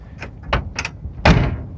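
Car doors on a 1963 Ford Fairlane 500 are worked in a junkyard: a few light metallic clunks and rattles, then a solid, heavy thud as a steel door shuts close by.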